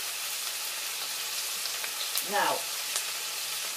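Homemade curry frying in a pan gives a steady, close sizzle throughout, with a short voice and a few light clinks partway through.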